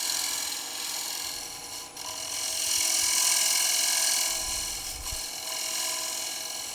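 Lathe tool cutting into a dense maple bowl blank, a continuous scraping, rasping hiss with a steady underlying spin that swells and eases as the cut deepens, close and fairly loud throughout with no talking.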